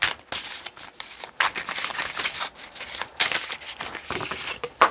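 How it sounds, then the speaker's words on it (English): Tarot cards being shuffled by hand, a dense run of papery riffles and rubbing strokes that comes in quick bursts, close and moderately loud, with no talking over it. "A little more shuffling."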